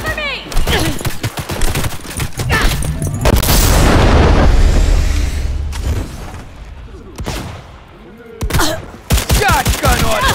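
Shotgun gunfire in the video game Cyberpunk 2077, a flurry of loud, sharp blasts and rapid shots with a sustained roaring barrage in the middle, then scattered bursts and voices talking in between.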